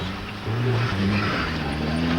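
Garry Wilson's Montego rally car pulls away after a roadside drive shaft change, its engine droning steadily and close with a brief rise in pitch as it gathers speed.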